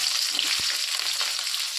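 Steady broadband sizzle of onions frying in a hot pan, constant and close, with one brief soft thud partway through.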